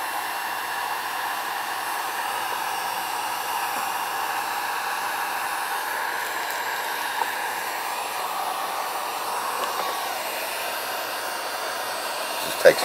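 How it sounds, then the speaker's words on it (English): A heat gun blows steadily while it warms up to shrink heat shrink wrap, giving a constant, close airy roar with a single sharp click near the end. "Alright, so now we're going to do our heat shrink wrap."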